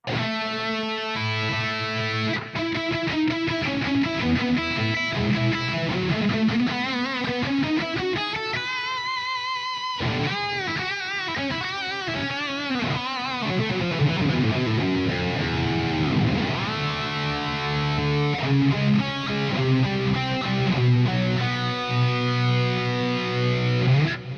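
Distorted electric guitar through an amp modeler plays chords and riffs with wide, echoing repeats from two mono delays, loud and continuous, no voices.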